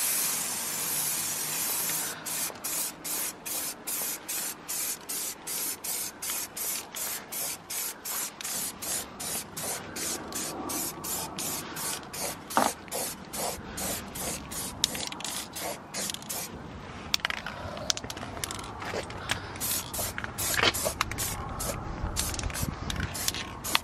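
Rapid repeated bursts of aerosol spray paint hiss close up as a can sprays black paint onto a Golf R's side mirrors, short pulses at a steady rhythm, with occasional clicks and handling noises.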